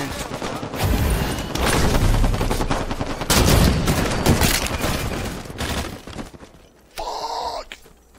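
Rapid gunfire bursts and rattling shots in Halo 5 multiplayer on the Coliseum map, dense and loud for several seconds, with a brief electronic tone near the end.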